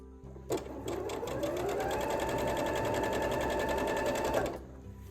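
A sewing machine stitches quilt blocks in one steady, continuous run of mechanical whirring that starts abruptly, holds an even loudness for about four seconds, then stops.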